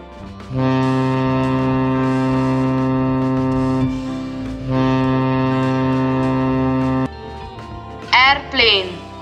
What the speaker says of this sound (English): Ship.